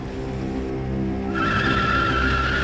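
A Rover SD1 fitted with a 27-litre V12 aircraft engine spins its wheels, a loud, steady engine roar joined midway by a rising, sustained tyre squeal, close and continuous.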